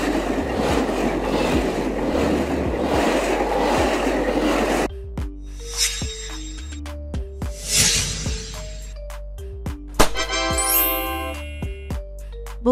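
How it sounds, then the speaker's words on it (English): A double-decker train with two levels of seating passes in a steady rumbling roar, then breaks into scattered clanks, rattles and bright metallic jingles of rail cars, fairly close and alone with no voices. "A train with two levels of seating, designed to carry more passengers on busy routes."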